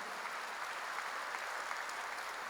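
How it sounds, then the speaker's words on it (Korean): Steady applause from a church congregation during a worship service, a dense, even wash of clapping held at a moderate distance with no break across its length. "그런 것이시면 박수로 나와드리시면"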